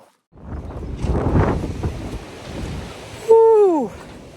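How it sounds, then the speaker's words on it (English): Gusty wind buffets outdoors, a low roaring rush that swells and fades, then a short voiced exclamation with a falling pitch cuts in near the end. "Oh, windy."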